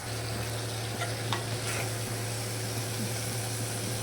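Mushrooms sauté in a pan as their water cooks off, giving a steady, moist sizzle with a low hum beneath and a few light scrapes of stirring, close and fairly quiet with no talking.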